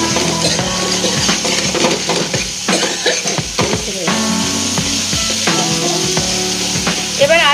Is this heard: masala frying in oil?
yes